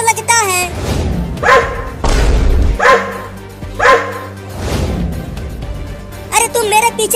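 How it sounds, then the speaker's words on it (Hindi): A big, angry dog barks in a few loud, heavy bursts spaced about a second apart, close by, with cartoonish speech and thuds around it. "देखो वो कुत्ता कितना बड़ा है और वो गुस्से में भी है।"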